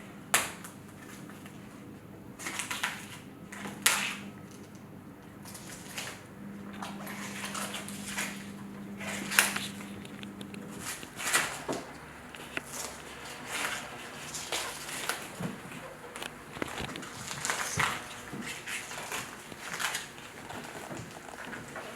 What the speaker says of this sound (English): First, you'll need to get a red cabbage and peel it.